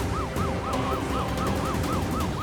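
A police siren yelps in rapid, repeating rising-and-falling wails over a dense wash of background noise, continuous throughout.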